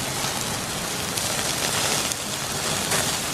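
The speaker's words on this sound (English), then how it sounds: "It's been raining. It's raining." Steady rain falls throughout at a riverside campsite, a dense, even hiss of drops hitting surfaces, with no voices.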